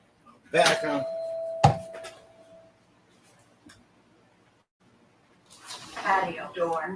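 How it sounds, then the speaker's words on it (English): A doorbell rings with a clear tonal chime standing out amid voices, followed by another sharp ding, with people talking before and after. "They're ringing doorbells."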